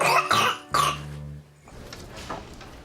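Three sharp, close coughs from a child in quick succession, followed by a quieter breathy stretch with faint background noise.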